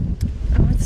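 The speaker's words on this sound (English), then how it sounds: "it is exceptionally windy" Strong wind buffets a microphone outdoors on a very windy evening, a loud, low rumbling roar with gusty surges across the short moment.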